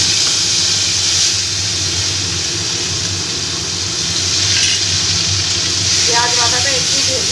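Onion paste sizzling in hot oil with whole spices (dried chilli, bay leaf, cardamom, cinnamon), a steady close hiss and crackle running throughout with a few brighter pops near the end.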